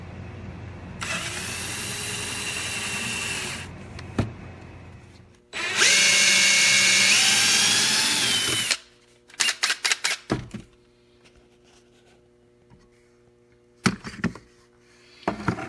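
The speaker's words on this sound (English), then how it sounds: "I am going to go ahead right now and start drilling these out" A power drill whirs loudly in two sustained bursts, followed by short rattling clicks and brief screw-driving spurts into pocket holes, close by, during a greenhouse build.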